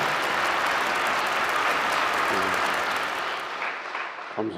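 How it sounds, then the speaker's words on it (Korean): An audience at a church pastor's inauguration ceremony bursts into loud, sustained applause, a dense wash of clapping that holds steady and then tapers near the end. "큰 박수로 환영해 주시면 감사하겠습니다."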